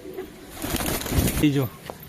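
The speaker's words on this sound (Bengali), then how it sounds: "তো অলরেডি বহুদিন পর পায়রা এসছে, নতুন পায়রা, মাঝি পায়রা" A pigeon in a netted loft gives a short, close, throaty coo near the end, with rustling and a voice in the background.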